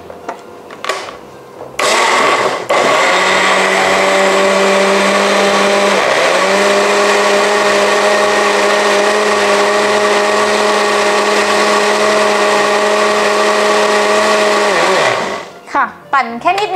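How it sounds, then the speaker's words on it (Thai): After a few short knocks, a blender whirs loudly and steadily, churning a sapodilla ice cream mixture, with one brief dip in pitch midway before it winds down and stops, followed by a few soft clatters. "ปั่นเลย"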